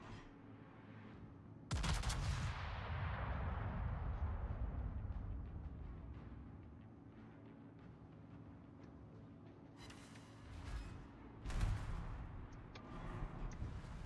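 Heavy naval gunfire from World of Warships strikes the player's ship, a loud sudden boom followed by a long rumbling roar, with another sharp blast burst later amid ongoing battle noise.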